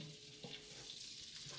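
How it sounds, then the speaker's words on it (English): Flour cooks in melted butter for a Creole gumbo roux, a soft, faint sizzle under steady stirring, with no voices. "I'm going to stir constantly in a figure-8 pattern"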